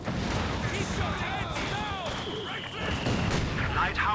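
Gunfire rattles in a Company of Heroes 2 battle late in a 3v3 match, with bursts of shots and impacts mixed with battle noise, while a voice talks over the action.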